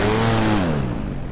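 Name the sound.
electric paramotor motor throttling up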